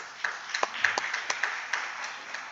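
Light, scattered clapping from a small group at a school board meeting, fairly faint, with uneven individual claps rather than a full roaring ovation.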